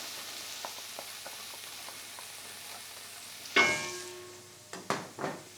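Garlic and onion hit a hot pan and burst into a loud sizzle after a few quiet clicks of kitchen activity, the frying hiss flaring again in short bursts as the pan is stirred.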